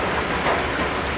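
Rain falling steadily at a house building site, a dense, even patter and hiss that fills the short clip at a moderate level with no voices.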